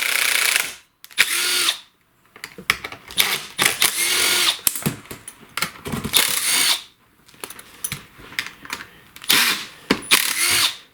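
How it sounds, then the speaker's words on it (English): Impact driver fitted with a T27 Torx bit backing screws out of a STIHL chainsaw, several loud hammering bursts of a second or two each, separated by brief pauses, close up with no talking. "I will use a T27 Torx on my impact here to remove these"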